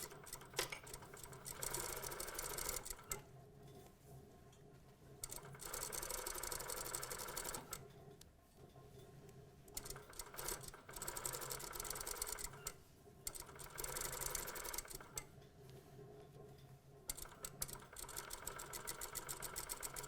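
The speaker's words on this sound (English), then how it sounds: "we're going to stitch this at 5 millimeters, which is, in my case here on the machine, foot width" A sewing machine stitches a pant pocket in several running bursts, humming steadily for a few seconds each time with short pauses between runs.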